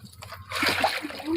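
A pet rabbit splashes in a swimming pool with a sudden slosh and splatter of water, then a softer trickle, while a voice talks nearby.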